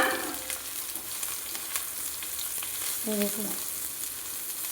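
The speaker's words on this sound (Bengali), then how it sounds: "সোয়াবিনটা ভেজে আনছি।" Soybean chunks frying in hot oil, seasoned with salt and turmeric, a steady sizzle with occasional stirring, close and moderate in volume, with a brief spoken word near the end.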